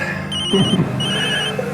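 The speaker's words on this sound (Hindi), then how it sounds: "एक मिनट, मेरा फोन आया है।" A phone rings with short bursts of a high electronic tone, two rings close together at moderate level over a low background murmur.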